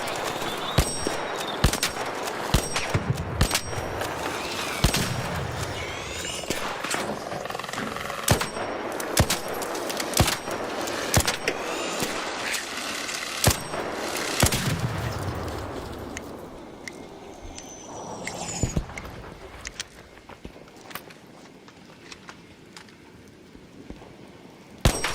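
Gunfire rattles through a video game in repeated sharp bursts and rapid volleys, loud and close, with quieter stretches between them.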